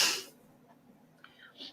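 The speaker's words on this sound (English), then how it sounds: "I've been sneezing all day." A single sharp sneeze from an allergy-suffering person in a home kitchen, a loud breathy burst at the very start that quickly fades into quiet room tone, followed by a couple of faint small sounds.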